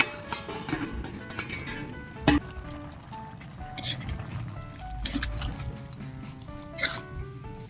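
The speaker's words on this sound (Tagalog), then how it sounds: "kumukulo na" Water bubbling and simmering in a pot for menudo, a steady soft patter of small bursts with scattered pops, heard close.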